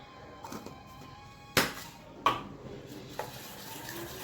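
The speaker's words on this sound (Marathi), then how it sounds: "परत एकदा असं एकदम मिश्रण एकत्र करून घ्यायचं." Potato bhaji batter stirred in a bowl at home, with soft wet scraping broken by two sharp metallic clanks of the spoon against the bowl and a few lighter taps, close and fairly quiet.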